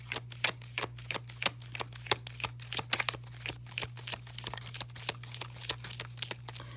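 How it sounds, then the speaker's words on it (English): An oracle card deck is shuffled quickly: a rapid, irregular run of crisp card slaps and riffles close by, over a steady low hum, with no talking. "I'm just going to shuffle really quickly."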